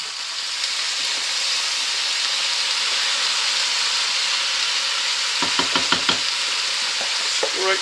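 Passata sizzling in a pan of bolognese risotto, a steady loud hiss throughout, joined near the end by a run of scraping, clattering stirs.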